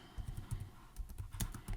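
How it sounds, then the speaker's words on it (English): Keys clack at a steady typing pace on a Brydge SP Max+ keyboard case for a Microsoft Surface Pro, the taps quiet, close and crisp, with no talking. "Let me show you how it's going to actually look and sound when you're typing on this keyboard."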